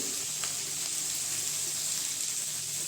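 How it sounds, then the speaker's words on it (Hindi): Onions sizzle in a pan over a lowered gas flame, an even, continuous close hiss of frying with only faint stirring, heard alone without talk. "फिर पूरा गोल्डन कलर आने तक हम इसे फ्राई करेंगे"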